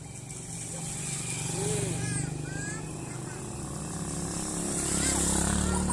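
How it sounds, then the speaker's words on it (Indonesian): A motorcycle rumbles past on a rainy street, building to a louder close pass near the end, while children talk and play in the rainwater. "Oh minggir, ada motor minggir."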